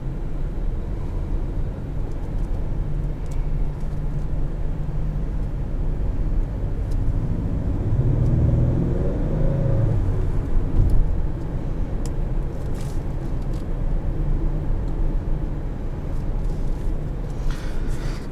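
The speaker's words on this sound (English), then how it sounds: "Ten-speed automatic, made it to, I believe, the 2-liter turbocharged 4-cylinder." Steady drone of a 2019 Acura RDX Advance with a 2-liter turbocharged four-cylinder and ten-speed automatic, driven at night in comfort mode, a continuous low cabin hum with road and engine noise and no talking.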